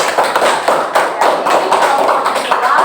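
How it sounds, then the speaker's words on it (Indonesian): A small classroom group claps for the second team, a steady patter of many hands close by, loud and continuous with no talk over it. "tepuk tangan dulu untuk kelompok 2"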